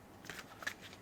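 Tarot cards shuffled by hand, a few quick soft riffling bursts, close and quiet, with no talking.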